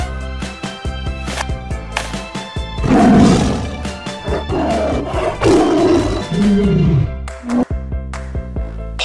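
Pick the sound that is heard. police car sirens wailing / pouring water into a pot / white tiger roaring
white tiger roaring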